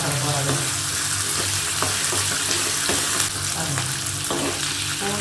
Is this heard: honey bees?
no